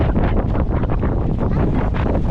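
Strong storm wind buffets a microphone on the shore by the sea during a typhoon, a loud continuous roaring rumble with gusty surges and no clear voices.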